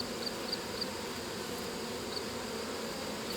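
Honey bees, a colony rescued from a wall, buzz on a hive frame in a faint, steady, unbroken hum, with a few brief higher whines from individual bees passing close.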